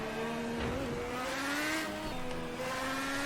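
Red Bull X2010 race car in a racing video game, its engine holding a steady high whine that shifts pitch slightly, with a brief tire squeal over the continuous drone.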